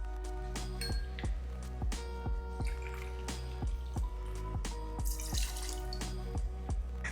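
Johnnie Walker Black Label whisky poured for a cocktail at a home bar, with quiet liquid trickles and drips punctuated by a steady series of sharp glass clinks and taps, close and clear.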